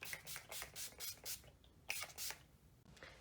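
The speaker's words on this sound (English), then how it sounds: "the last final touch would be setting spray. I personally use Urban Decay Chill" Urban Decay Chill setting spray misted during makeup, a quick run of soft, close spritzing bursts followed by a couple more after a short pause, with no talking.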